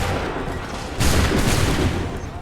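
A loud, dense crackle of musket fire from Assassin's Creed 3 erupts in a ragged volley, many overlapping shots bursting at once over ongoing battle noise.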